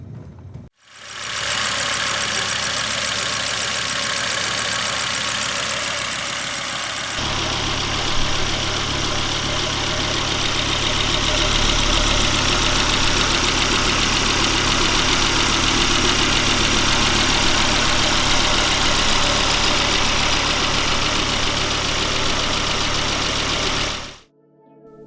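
A Volvo car engine runs steadily at idle for about twenty-five seconds after an oil change with Valvoline Restore and Protect, a constant broadband rumble with a slight shift in tone partway through.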